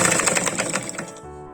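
Sewing machine stitching the skirt and bodice of a frog dress for a 3 to 4 year old, a steady run of rapid, pulsing stitches that stops abruptly near the end, leaving a low hum.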